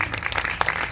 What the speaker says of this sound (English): A round of applause for Hashem.